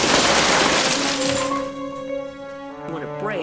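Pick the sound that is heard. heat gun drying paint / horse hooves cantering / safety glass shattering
safety glass shattering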